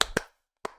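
Two pairs of quick hand claps, close and crisp, separated by a short silence, with no other sound around them.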